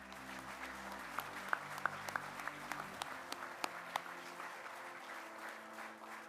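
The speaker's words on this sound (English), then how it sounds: "let's give a round of applause to all of our winners tonight" Audience applause for award winners at a sports awards evening, steady mid-level clapping with a few sharper individual claps standing out, tapering slightly toward the end.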